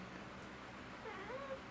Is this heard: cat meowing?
yes